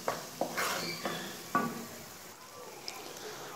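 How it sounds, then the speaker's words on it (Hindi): Browned onions frying in a pot, with a soft steady sizzle and several sharp stirring scrapes and clinks in the first half, settling into a quieter hiss. "और ब्राउन प्याज, इसे अच्छी तरीके से भूनना है"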